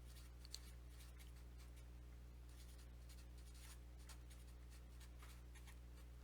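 A pen or marker writes on a board in short scratchy strokes, several bursts of faint squeaking friction spaced across a few seconds over a steady low hum, with no speech.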